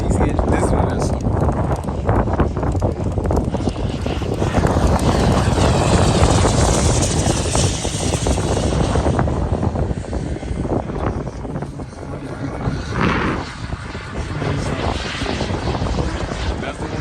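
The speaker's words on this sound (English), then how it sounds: "There's that Colt 230cc engine." A large model airplane with a Colt 230cc engine flies at an airshow, its propeller engine droning loudly and steadily as it passes, then fading slightly, with people talking over it.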